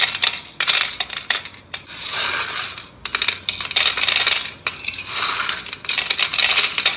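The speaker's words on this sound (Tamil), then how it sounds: "எப்படி மொறு மொறுன்னு நைஸா உடையுது பாருங்க" Crisp traditional Diwali murukku snapping and breaking, giving loud, close crackling crunches in several bursts with short pauses between them and no talk.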